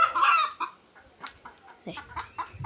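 A hen clucks close by near its egg-laying spot, giving a string of short irregular clucks and squawks with brief gaps between, not masked by any voice.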